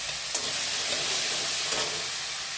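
Steady close sizzle and hiss of banana flower, ginger and green chilli frying in a pan, with faint stirring clicks scattered through and no voices.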